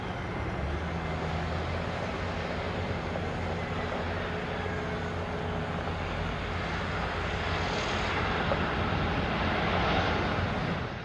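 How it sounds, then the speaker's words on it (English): An Air Canada A321-200 airliner landing at Vancouver's YVR after nearly striking its tail, its engines a steady, loud broadband roar with a low hum underneath, continuous throughout and swelling slightly toward the end. "Watch this Air Canada A321-200 narrowly avoid a tailstrike while landing at YVR"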